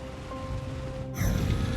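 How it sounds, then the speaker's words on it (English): Heavy rain pouring down over an airport, a loud, steady broadband wash that swells sharply partway through as the downpour intensifies, with no voices. "the skies over the airport opened up and heavy rain poured down"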